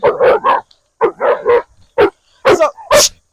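A reactive dog barks in repeated loud bursts on a walk, clusters of sharp barks separated by brief pauses, close and with no talk over them.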